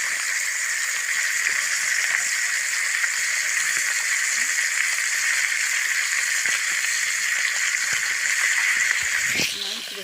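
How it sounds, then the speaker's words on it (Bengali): Pieces of katla fish frying in hot oil give a steady, even sizzle with faint crackles throughout, cutting off abruptly near the end, with no talking. "ভাজা মাছের ভাজা প্রায় কমপ্লিট হয়ে গেছে"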